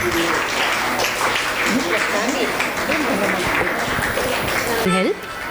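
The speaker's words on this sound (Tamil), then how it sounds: "பலத்த கைத்தட்டல்" An audience at a women's festival in Chennai applauds in a loud, continuous wash, with voices over the clapping and an abrupt drop near the end.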